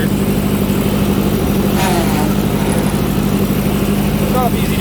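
Ford 515 sickle mower cutting grass, heard as a continuous mid-pitched engine drone with a steady mechanical chatter, loud and close throughout, with a few brief faint squeaks on top.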